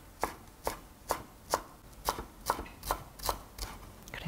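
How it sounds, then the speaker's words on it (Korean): A knife finely chops fresh dill on a board, about ten evenly spaced crisp thuds in a steady rhythm, close and clear with nothing else over them. "이 딜을 허브로 많이 씁니다. 그때 아주 잘게 썰어 주셔야 돼요."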